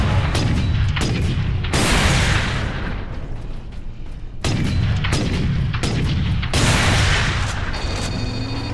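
Missile launchers and gun turrets fire in the Warhammer 40,000: Space Marine video game, loud repeated booming bursts that come in heavy waves, each followed by a rumbling decay, with dense gunfire between them.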